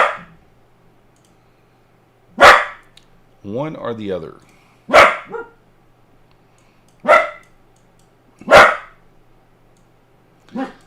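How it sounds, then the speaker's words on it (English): A dog barks at a noise indoors, five single sharp woofs spaced a couple of seconds apart, loud and close, with someone speaking briefly between them. "I will bark so you know something made a noise."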